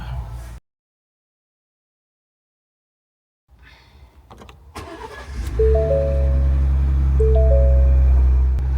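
A Ford Bronco's engine cranks and starts after a brief silence, then idles steadily and loudly with a low, constant rumble while the transmission is shifted through its gears, with faint whining tones appearing over the idle.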